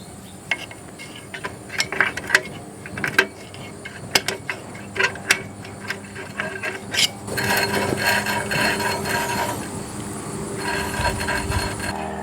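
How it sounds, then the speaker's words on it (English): The star wheel brake adjuster on a 2008 Hyundai Elantra 2.0L rear brake is turned against the rotor, giving a run of sharp ratcheting clicks that give way to a steadier scraping drag. "We are going to adjust our star wheel until we can feel a slight drag on the rotor"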